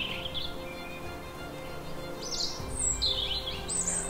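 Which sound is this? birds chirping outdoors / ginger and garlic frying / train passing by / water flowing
birds chirping outdoors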